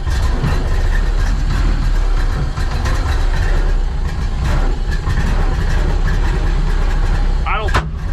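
A 1931 Ford Model AA 1.5-ton truck engine runs steadily and loud while the truck drives, a constant low rumble throughout with a brief whine near the end, people talking over it.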